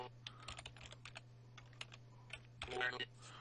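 Rapid clicking of keys on a computer keyboard used to type text into a 1980s CTS256A-AL2 speech synthesizer setup, close and clear with a steady electrical hum beneath and a busier burst of keystrokes near the end.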